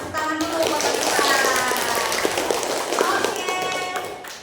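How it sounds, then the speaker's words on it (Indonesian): Students in a classroom clap together during a practice teaching lesson, a short burst of lively, uneven hand claps mixed with children's voices and chatter. "Tepuk tangan dulu buat kita."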